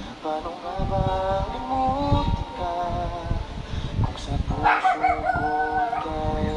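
A dog howls in drawn-out, wavering cries over a noisy background with music and voices, the howls rising and falling across several seconds.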